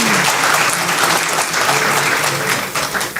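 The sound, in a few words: audience applause for panelists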